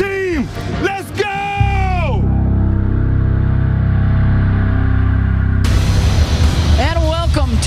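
A packed football stadium of 65,000 Raiders fans in Las Vegas at a preseason game against Seattle gives a loud sustained roar, with a voice on the public address yelling over it at the start and end.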